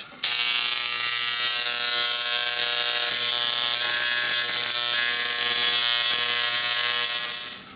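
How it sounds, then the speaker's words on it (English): A Dremel electric engraver buzzes loudly and steadily on an etched wood block, a harsh nasal vibrating drone that runs continuously for several seconds with slight shifts in pitch as it moves. "I'm going to highlight it just a bit with this Dremel electric engraver"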